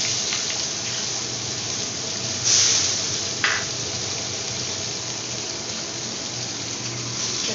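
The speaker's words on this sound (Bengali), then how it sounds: "দেখুন এতটা মতো আমি জল দিয়ে দিলাম।" Water pours into a hot pan of spices while bata fish in mustard curry cooks, giving a steady rushing hiss and sizzle throughout with a brief louder splash midway.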